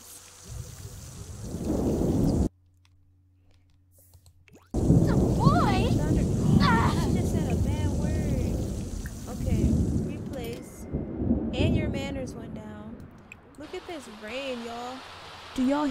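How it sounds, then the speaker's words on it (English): Steady rain hisses throughout with low rumbles of thunder in The Sims 4 video game, dropping out briefly, while a person talks and reacts over it. "Y'all hear that rain?"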